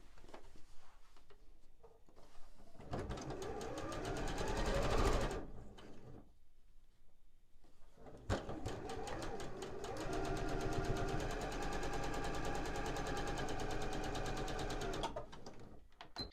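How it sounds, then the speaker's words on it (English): Sewing machine stitching a quarter-inch seam on a quilt block, a close, steady whirring run in two long bursts separated by a short pause. "And then I'm going to sew 1/4 inch along this long side here."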